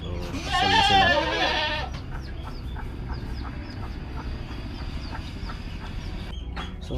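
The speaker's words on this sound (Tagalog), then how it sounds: "yun din mga kambing natin papasulnog" Goats on a farm, heading out to graze in the morning sun, bleat loudly and close in a short burst, then fade to quiet shuffling and soft background noise.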